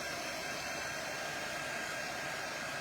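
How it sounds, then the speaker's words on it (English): A quick-dry heat tool blows continuously while drying paint on a craft project, a steady, even whooshing hiss with no pauses, heard up close. "So this is our quick dry tool."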